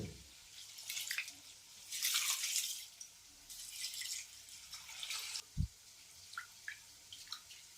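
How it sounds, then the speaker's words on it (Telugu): Water is poured over basmati rice in a bowl to soak before making prawn biryani, coming as several short splashing, trickling bursts separated by brief pauses and a few scattered drips, close and fairly soft. "వీటిని 2-3 సార్లు శుభ్రంగా కడుక్కుని మునిగేంత వరకు నీళ్లు పోసుకుని నానబెట్టుకోవాలి"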